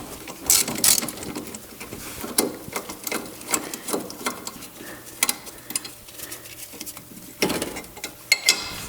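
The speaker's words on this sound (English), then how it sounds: "using a 10 millimeter socket, we're going to remove this 10 millimeter bolt" A socket wrench backs out a 10 millimeter bolt during a coilover install on an R33 Nissan Skyline GT-R. Close, uneven bursts of quick ratchet clicks with short gaps run for about nine seconds, and no one speaks.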